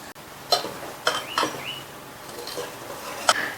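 Several short scraping and clinking strokes of a spoon mixing dried red chili and coconut chutney in a bowl, spaced irregularly, close by with a faint background hiss.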